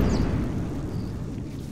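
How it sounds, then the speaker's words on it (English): A rumbling explosion from a space battle in Star Wars Battlefront II: a dense, low boom that swells and sustains through the short clip with steady loudness, and no voices over it. "Maybe that's the explosion."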